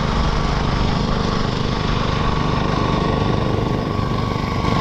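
A Honda Livo 110 motorcycle engine runs on a mileage test ride, giving a steady, loud, continuous drone with road and wind noise and no letup or speech.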